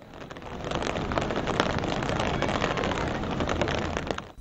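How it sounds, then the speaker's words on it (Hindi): Steady rain with strong wind gusts sweeps over a city in continuous broadband hiss, heavy and close, with no voices. "तेज हवाओं के साथ वक्फे से बारिश का सिलसिला ताहाल जारी है।"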